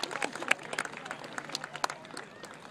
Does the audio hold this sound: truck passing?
no